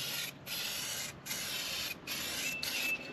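Subliglaze sublimation coating is sprayed onto a chef knife in four close, loud hissing bursts separated by short pauses, with no voices.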